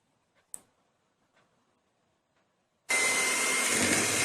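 An electric mixer beats black date cake batter: a few soft clicks and taps, then the motor kicks in abruptly with a loud, steady, close whirring roar that holds to the end.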